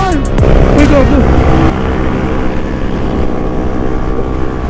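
A motorboat engine runs loud and steady through gusting wind, with people shouting briefly over the droning motor near the start.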